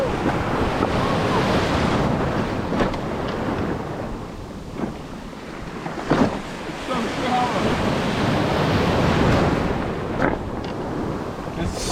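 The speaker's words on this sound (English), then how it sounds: "In this clip, the wind's blowing pretty good" Strong wind blowing over choppy sea off a Hobie Mirage Lynx kayak offshore, a loud steady rush with wind buffeting the microphone and surf washing underneath, no talking.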